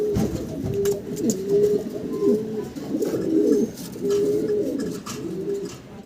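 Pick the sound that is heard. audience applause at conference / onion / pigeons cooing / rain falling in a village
pigeons cooing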